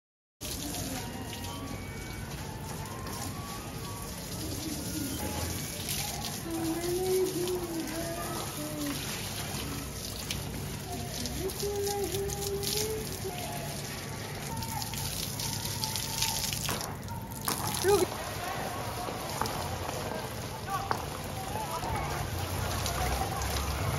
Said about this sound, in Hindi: टेरेस को अच्छी तरीके से गीला भी कर लिया है और प्लांट्स को पानी भी दे दिया है